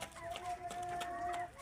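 A rooster clucks close by in a short run of rhythmic calls over a thin sustained tone, moderately quiet with no talking.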